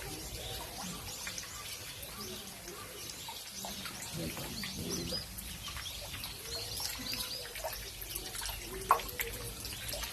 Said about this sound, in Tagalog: Tubig ang gagaling sa dragon.